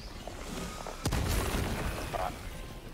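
A grenade explosion in the video game Helldivers 2, a single broad boom that swells around the middle and then rumbles off under faint background game noise.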